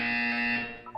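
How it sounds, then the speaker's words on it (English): An electronic buzzer in the video game Portal 2 gives one loud, steady tone that sounds alone for about a second before fading. "You will hear a buzzer."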